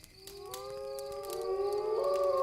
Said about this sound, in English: That's a pack of wolves.